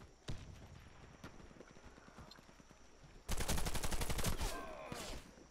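A lone gunshot rings out in the video game Warface, then after a pause a loud burst of rapid automatic gunfire from a Tavor TAR-21 rattles for about two seconds before fading.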